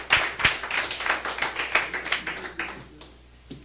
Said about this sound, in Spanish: si lo cree, pues dele un aplauso a Dios